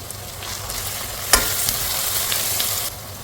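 Coriander leaves go into a hot tempering of oil in a pan, producing a close, continuous sizzle, with one sharp clack of a utensil partway through and the frying quieting near the end.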